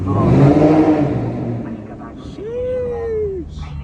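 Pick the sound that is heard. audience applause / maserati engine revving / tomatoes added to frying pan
maserati engine revving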